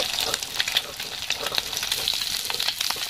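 Pieces of katla fish fry lightly in hot oil, giving a steady close sizzle with small crackling pops, and no one speaks.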